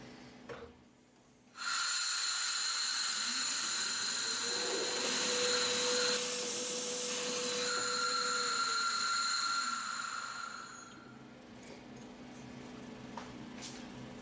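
A machine runs a 5.8 millimeter drill through metal, with a steady loud whine and tonal hum that starts abruptly, holds for several seconds, then winds down.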